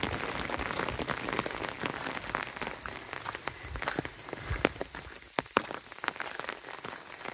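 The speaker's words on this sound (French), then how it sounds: "le son de la pluie" Steady rain patters across forest foliage in a nature reserve, with scattered louder drips landing close by and no voices.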